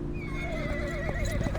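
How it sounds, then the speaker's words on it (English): Horse in the video game Reverse 1999 lets out a loud, drawn-out whinny with a wavering pitch, close and clear over a low steady game background, with faint hoof clatter. "The horse answers with a loud neigh."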